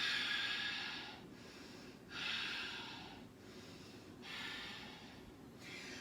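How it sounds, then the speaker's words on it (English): A yoga practitioner draws three slow Ujjayi breaths, each a soft, close, hissing rush of air with short pauses between, quiet and alone. "reset yourself here for 3 Ujjayi breaths"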